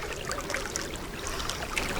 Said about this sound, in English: Nice, fresh spring water.